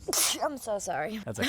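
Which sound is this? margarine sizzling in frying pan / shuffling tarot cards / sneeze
sneeze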